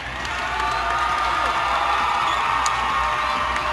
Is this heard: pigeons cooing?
no